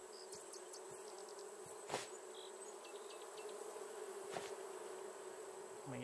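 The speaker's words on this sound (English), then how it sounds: "Bees." A swarm of bees in the survival game Raft drones in a continuous low buzz, quiet but unbroken, with occasional light taps and clicks over it.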